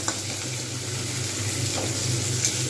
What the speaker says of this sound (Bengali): টমেটোগুলো ভালোভাবে একটু ভেজে নেব।